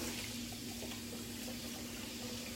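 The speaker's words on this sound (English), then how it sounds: "So I'm just gonna rinse off our cilantro." Steady running kitchen tap water pours over cilantro being rinsed, a continuous close hiss with no talking.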